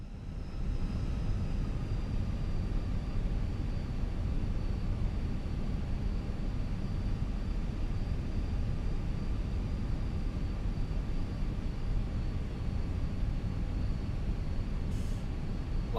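Fenix A320 airliner on a windy landing approach in Microsoft Flight Simulator, a steady broadband cockpit engine and airflow roar holding at even loudness throughout with a faint high tone on top.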